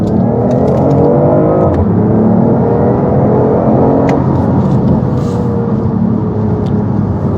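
A half-electric hybrid car accelerating hard to fend off an overtaking vehicle: a loud, continuous engine roar and whir rising steadily in pitch, heard close from inside the cabin with no talking.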